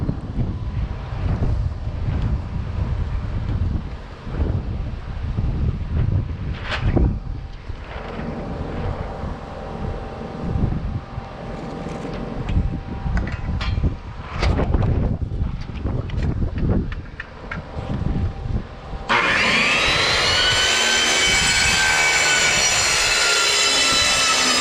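A loud, steady power saw roar grinding through material for a long stretch, then a high whining blade tone as the cut finishes.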